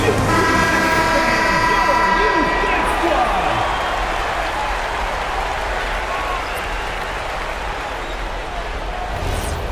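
Arena crowd at a WNBA basketball game, Minnesota Lynx against Toronto Tempo, giving a loud, sustained roar of applause and noise that gradually settles, with a horn-like tone sounding early on and a commentator talking over it.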